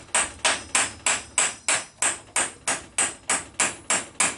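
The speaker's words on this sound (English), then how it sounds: "tap the axle until it bottoms out" A hammer taps a replacement axle into place on a 1998 Nissan Sentra passenger side, with about fourteen even, ringing metallic blows in a quick steady rhythm and no talking.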